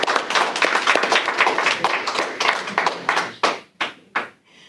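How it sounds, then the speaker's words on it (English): An audience at an annual public meeting of a community mental health service gives a round of applause: scattered, uneven clapping that thins into a few last isolated claps and stops. "So let's give them all a round of applause."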